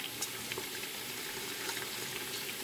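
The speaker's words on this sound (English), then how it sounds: "So then tin tomatoes is fried down a bit." Sachet tomato paste fries in a pot with an even, close sizzling hiss and soft bubbling, steady throughout with no voices.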